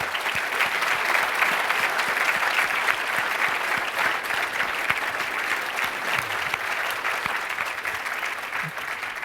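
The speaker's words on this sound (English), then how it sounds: "I hope you will all join me in a round of applause for our great panelists" An audience at a symposium on invisible wounds applauds its panelists, a sustained dense round of clapping from many hands that stays steady for several seconds.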